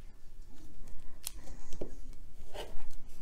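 Scissors snip through a quilting fabric square to cut it in half, a few short close crisp cuts with light rustling of cloth in between.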